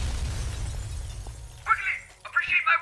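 Glass shatters in two sharp bursts near the end of a video game scene, after a stretch of low rumbling background.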